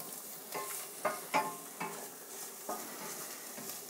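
A spoon scrapes and clanks around a pan as tomato paste is stirred in over a steady background sizzle, with several distinct knocks at irregular intervals and no talking.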